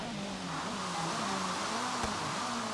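A Ferrari in the Forza Horizon 3 racing game drones along with a steady engine tone whose pitch rises and dips slightly, at a moderate level with no talk over it.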